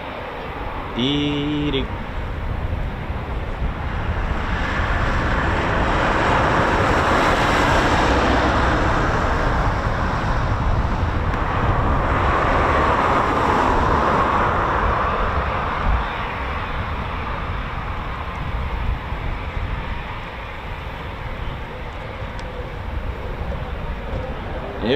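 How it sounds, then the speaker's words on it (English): Eurofighter Typhoon FGR4 jet taxiing at an RAF station, a steady broad engine roar and whine that swells and holds throughout, with brief talk near the start. "then a third Typhoon just taxiing now"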